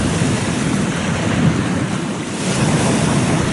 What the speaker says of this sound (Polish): Szósty dzień sobie plumkam się w morzu. Dzisiaj najmniejsze fale są.